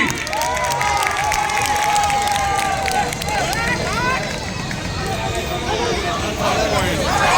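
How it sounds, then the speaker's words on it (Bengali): Spectators at an inter-district kabaddi match between Nadia and Malda cheer and clap for the jersey number 7 player, a continuous crowd roar beneath loud, excited commentary. "7 নম্বর জার্সি আর এই প্লেয়ারের জন্য জোরে হাততালি।"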